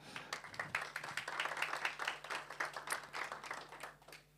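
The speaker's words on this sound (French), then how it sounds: "On peut les applaudir." An audience applauds at a French sportech conference on the legacy of the 2024 Olympic and Paralympic Games, with dense, steady clapping from a room full of people that holds for several seconds without talk.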